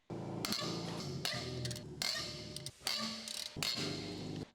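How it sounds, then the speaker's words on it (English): Rear wheel lug bolts on a 2.5L BMW 325Ci E46 being loosened with a large extendable ratcheting wrench and 17mm deep socket, rapid close ratchet clicking in several bursts separated by brief pauses. "With a large extendable ratcheting wrench, loose the rear wheel lug bolts"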